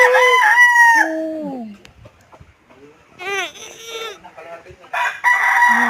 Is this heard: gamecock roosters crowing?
yes